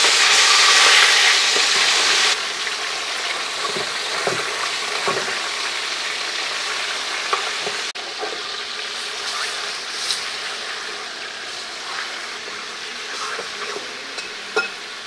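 Large pieces of mutton sear in a pan, a loud steady sizzle that is strongest at first, then settles into continuous frying crackle with scattered pops and occasional stirring clinks.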